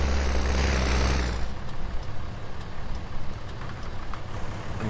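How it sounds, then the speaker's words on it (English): Tractor engine in a Farming Simulator 19 farm scene during lime spreading: a loud, heavy low rumble at first that drops to a steadier, quieter idling drone with faint ticking. "can you hear Jack's tractor over the top of it all as well"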